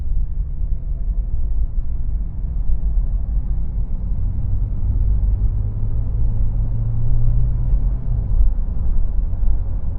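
Steady low rumble of a 1998 Toyota Land Cruiser Prado cruising over a rough road on a windy day, continuous road and engine drone throughout with no clunks or rattles standing out.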